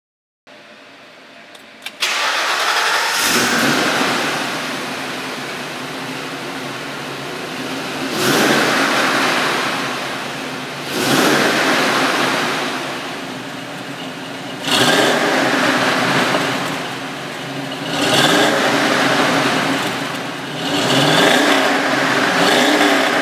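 A 1965 Ford Mustang wagon with a 5.0 V8 cranks and fires up, then revs repeatedly in several loud, swelling bursts over a rumbling idle, close to the microphone with no talking.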